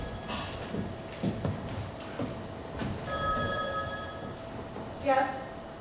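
An old-fashioned telephone bell rings in short bursts in a stage show, bright and metallic, with bustle and movement on stage around it.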